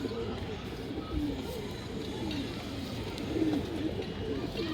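Black pigeons with red eyes cooing in low rolling phrases, repeated a few times over a steady, noisy background of many birds.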